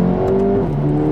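A Mercedes-AMG A 35 accelerating hard under launch control, the engine note climbing in pitch, dropping abruptly at a quick gearshift, then rising again, loud and close with no talk.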